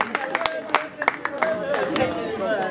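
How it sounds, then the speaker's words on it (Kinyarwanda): An audience at a Rwandan evening music gathering claps, scattered sharp hand claps mixed with voices and chatter, close and moderately loud, while someone talks over them. "amashyi menshi cyane"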